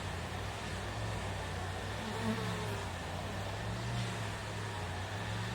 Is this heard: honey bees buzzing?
yes